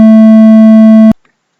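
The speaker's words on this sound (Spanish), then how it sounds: "un sonido de 200 Hz" 200 Hz test tone: a loud, steady hum that holds evenly for about a second and then cuts off abruptly into silence.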